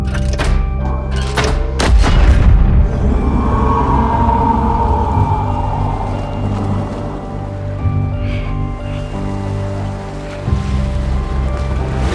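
In the horror video game REANIMAL, a huge cannon fires at a gargantuan underwater sea monster: a heavy booming thud early on, then a long rumbling roar over surging waves and sea ambience.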